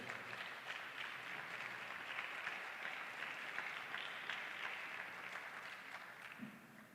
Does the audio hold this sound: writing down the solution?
no